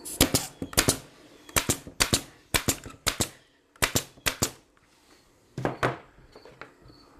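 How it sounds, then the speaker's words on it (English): Air nail gun driving nails into a cabinet side panel, sharp pneumatic bangs in quick pairs and clusters separated by short pauses, close and loud. "we'll just take our air gun here and air nail that on."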